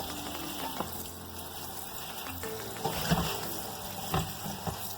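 Dasheen taro leaves being washed and swished in water, with soft splashing and trickling near at hand and a few louder sloshes, over a steady low hum and with no talk.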